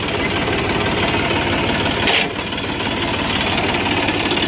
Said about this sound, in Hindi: और जब तक ये नाश्ता करेंगे, जब तक 1-2 राउंड मैं चलाऊंगा ट्रैक्टर को